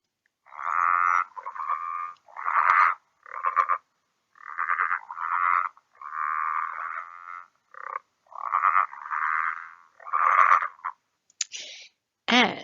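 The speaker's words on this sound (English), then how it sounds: "You will hear the males calling from August to April, and they're a rather interesting calling frog." Male frogs call in a series of about a dozen loud, close, pulsing croaks, each lasting under a second, separated by short silences and repeating in an uneven rhythm.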